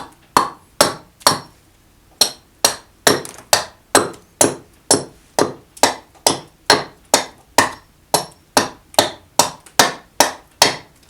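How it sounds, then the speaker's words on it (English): An axe chops into English walnut while a kuksa cup is carved, giving about two dozen sharp, close, evenly repeated thwacks with a short pause near the start. "I'm more so moving the workpiece around rather than changing my axe stroke. So I'm kind of doing the same chop over and over again"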